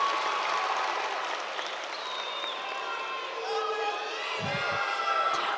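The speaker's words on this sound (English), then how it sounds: "give your families a big round of applause" Sustained applause and cheering from a large high school graduation audience filling a hall, steady and dense throughout, with scattered shouts and a few low thumps near the end.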